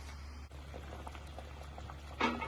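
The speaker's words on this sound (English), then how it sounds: "Our water has been boiling vigorously." Water boiling vigorously in a pot of cooking green bananas with a little oil, a steady bubbling hiss with scattered pops throughout and a brief louder splash near the end.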